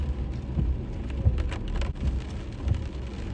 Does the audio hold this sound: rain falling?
yes